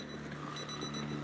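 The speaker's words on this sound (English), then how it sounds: "Somebody's alarm is going off." A zombie's pocket alarm clock rings in the video game Project Zomboid, a steady, continuous electronic beeping heard faintly at a distance, with no voices over it.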